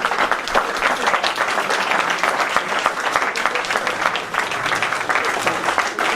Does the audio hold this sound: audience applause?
yes